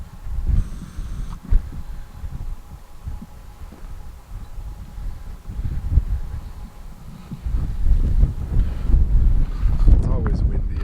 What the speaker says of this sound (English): It's always windy up here, pretty much most of the time.